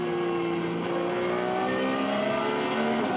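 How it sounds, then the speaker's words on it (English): Porsche race car in a Nürburgring 24-hour qualifying race lifting off the throttle, a loud continuous engine roar with falling pitch as it eases off, other engines blended in. "So you can hear the Porsche sort of lifting off rather than braking."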